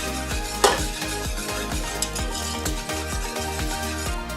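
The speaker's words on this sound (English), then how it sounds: "Remember, don't stop mixing, because the minute you do, it will burn on the saucepan." Chocolate glaze stirred continuously in a saucepan for glazed donuts, a steady scraping and swishing with rhythmic strokes under a constant background hum, close and fairly loud.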